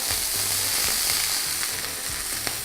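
Water squirted into a hot frying pan sizzles loudly and steadily, a dense hiss with scattered pops, close up with no voices.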